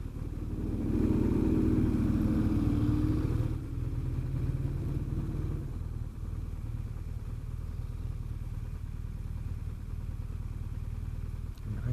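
A motorcycle riding along a winter road, its engine a steady close drone with a rising rev early on and a constant rumble throughout, no talk over it.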